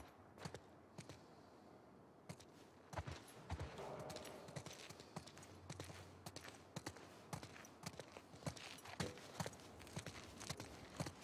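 Hooves of horses in The Last of Us Part II clop steadily in an irregular walking rhythm over a soft, continuous background bed, fairly faint and without any talking.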